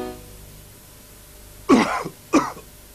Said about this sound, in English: Coughs need really effective medicine.